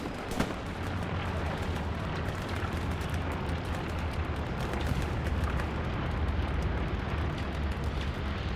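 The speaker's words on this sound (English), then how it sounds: "Do have a bombing run coming right over the circle" Bombing-run explosions in a console war shooter, a dense, continuous roar of booming blasts and rumbling impacts with a sharp crack near the start, loud and sustained throughout.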